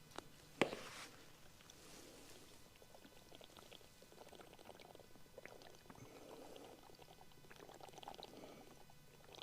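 Water pours and sloshes during a drink break on an outdoor scooter ride, a steady wet hiss with a sharp knock near the start, over constant background noise.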